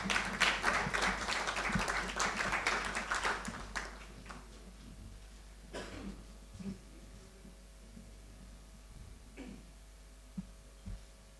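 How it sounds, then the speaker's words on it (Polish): Audience applause at a local awards ceremony in Zamość, a burst of clapping that is loud at first and then thins out into scattered claps over a background murmur. "Prosimy o brawa."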